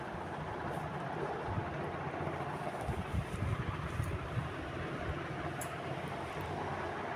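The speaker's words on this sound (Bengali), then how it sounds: "এবার ইলিশ মাছগুলিকে কিন্তু আমরা এক এক করে গরম তেলে ছেড়ে দিচ্ছি।" Hilsa fish pieces fry in hot mustard oil, giving a steady, close sizzling hiss with scattered crackles throughout and no talking.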